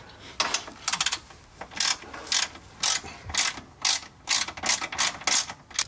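A hand ratchet clicks in repeated bursts while tightening the sway bar bolts on a Subaru WRX, about a dozen short crisp runs of clicking, close and fairly loud, with no voices.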